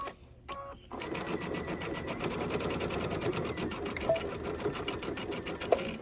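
A sewing machine stitches quilt border strips for a table topper, running fast and steady after a short pause at the start, with a close, even whirring clatter that continues to the end.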